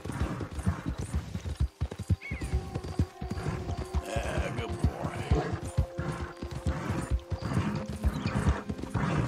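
Horse hooves galloping in Red Dead Redemption 2, a quick rhythmic clip-clop running continuously with occasional whinnies and clatter, while a voice talks over it.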